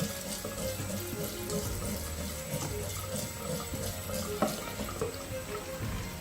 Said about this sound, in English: you can do a simple test by filling a bottle to the top